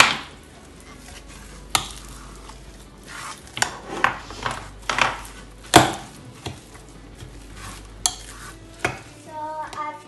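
Coriander being stirred into a spiced stuffing in a home kitchen, with scattered scraping and knocking taps of a utensil against the bowl at an uneven rhythm, close and moderately loud, with no talking.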